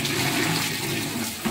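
A household toilet flushes, a loud, steady rush of water that fills the whole moment, close by with no voices.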